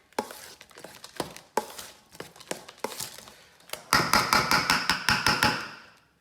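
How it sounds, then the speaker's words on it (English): A whisk beats lumpy mascarpone cheese in a bowl for tiramisu, making close, rhythmic clinking taps that grow quicker and louder toward the end. "We are gonna use a whisk to get all these lumps together, to get rid of all the lumps"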